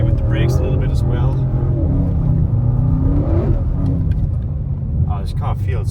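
An Audi RS6 C8 with quattro all-wheel drive sliding on snow, its engine a loud continuous rumble rising and falling with throttle, while someone talks over it.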